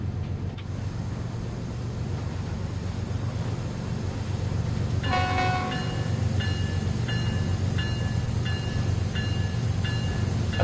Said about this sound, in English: I love the throb of these locos.